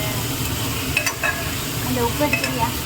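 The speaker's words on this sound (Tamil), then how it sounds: "கொஞ்சம் எண்ணெயிலேயே காய் வதங்கிட்டா கொஞ்சம் நல்லா இருக்கும் அதனால அது வதங்கட்டும்" Vegetables sauté in oil for sambar rice, producing a steady close sizzle with light stirring clinks and scrapes scattered through it and no voices.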